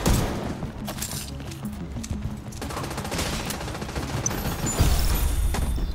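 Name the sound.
gunfire from The Division 2 video game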